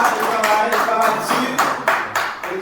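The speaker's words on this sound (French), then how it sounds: "Ma demande tout le monde pour applaudir." An audience at a 2021 awards ceremony claps in a series of loud, sharp bursts spaced unevenly, with speech and other voices mixed in around the claps.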